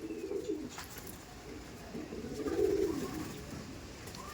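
Kalasobuj pigeons cooing in a loft, low soft coos rising and falling in a few slow bursts, with a gentle hum of other birds behind.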